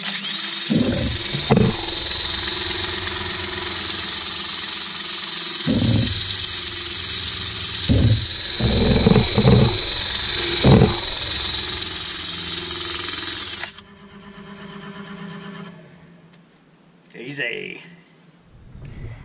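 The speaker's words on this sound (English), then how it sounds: "It's a budget toilet cleaner, cut off, put under the drill, and wrap some 80 grit around it." A power drill spins 80-grit sandpaper wrapped around a cut-off toilet brush against the inside of a turned Iroko wood vase. A loud, steady whirring grind runs for about fourteen seconds, then cuts out, leaving quieter noises.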